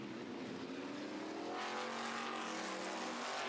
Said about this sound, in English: Kerry Anderson goes through the Lola T142.